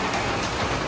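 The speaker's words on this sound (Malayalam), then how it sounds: "നല്ല മഴ, ഭയങ്കര മഴ." Heavy rain pours down in a dense, continuous hiss of drops striking surfaces, loud and close, with no voices over the brief stretch.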